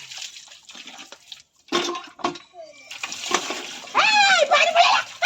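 Water splashing and pouring in a home kitchen in fits and starts, close and fairly loud, with bursts of running water, clatter and splatter while people talk over it.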